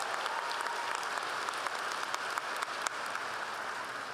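Sustained applause from a commencement audience for the student speakers, a thick, even wash of many hands clapping that holds steady throughout, with no voices over it.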